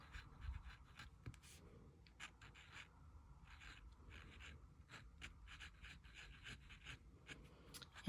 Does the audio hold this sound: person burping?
no